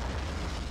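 A tank's turret and main gun blown apart in Men of War, a short, heavy explosive rumble with dense low-end noise sustained throughout, loud and alone.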